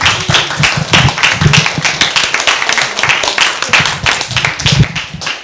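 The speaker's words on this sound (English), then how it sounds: "Can we have a final round of applause, please?" A small audience at a poetry reading at the American Library gives a final round of applause, loud, close, rhythmic clapping with distinct individual hand claps throughout.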